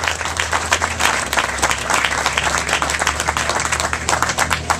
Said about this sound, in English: We ought to give the congressional delegation a big round of applause.